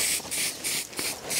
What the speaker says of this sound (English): Let's give us a bit of spray of paint, I think.